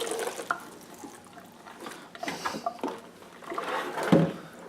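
Wet hats and gloves are lifted from a tub of OxiClean wash water, giving sloshing and dripping with a few splashes, close and fairly soft.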